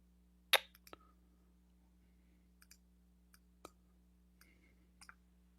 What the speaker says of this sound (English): We are typing again in Arabic.